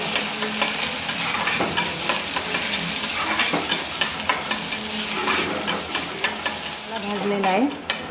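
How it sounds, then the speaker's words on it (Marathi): Finely chopped onion frying in a pan with garlic, a continuous sizzle punctuated by regular spatula scrapes and taps against the pan, close and clear. "आता त्यामध्ये बारीक चिरलेला कांदा पण छान गुलाबी रंगावर भाजायचा"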